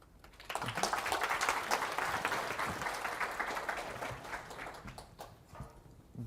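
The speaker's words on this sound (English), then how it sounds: "So please give him also a warm welcome." A conference audience applauds to welcome a speaker, a broad wash of clapping that swells quickly, holds steady for several seconds, then tapers off.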